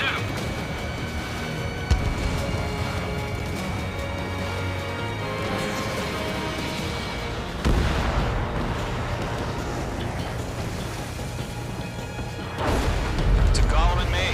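Missile launch from a fighter jet in Ace Combat 7, a sudden whoosh and rumble rising over steady jet engine drone and radio chatter, with another heavy burst near the end.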